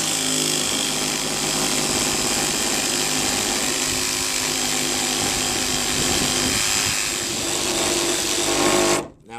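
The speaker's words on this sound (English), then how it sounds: "the Sawzall cuts better like this" A Sawzall reciprocating saw buzzes continuously and loudly while cutting across deck boards, its rapid back-and-forth stroke steady throughout before stopping abruptly at the end.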